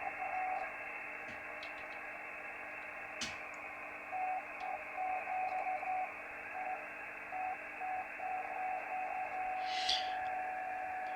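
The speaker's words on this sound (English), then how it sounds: "what you can hear there is the tone from the generator." A steady, faint tone from a signal generator sits beneath radio hiss and static on an Icom 756 Pro-2 transceiver under repair, with occasional clicks and crackles throughout.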